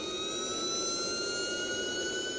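A jet engine whines with a steady, high-pitched tonal drone layered over a constant roar, loud and unbroken for a couple of seconds with no voices.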